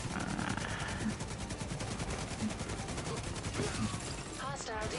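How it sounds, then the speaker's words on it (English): Dense, continuous gunfire and rocket launches in the shooter video game The Division 2, a loud sustained barrage with rapid bursts throughout and a few whistling streaks near the end. "what the hell is firing rockets?"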